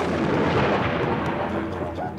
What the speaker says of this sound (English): So Guthi Guthi roared like thunder